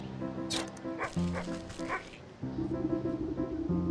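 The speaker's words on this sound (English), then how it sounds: "Anxious little dog attempts frantically to get the town guard's attention" Anxious little dog in Wytchwood, a video game, yipping and barking frantically in a run of sharp, high calls over steady background music, close and fairly loud.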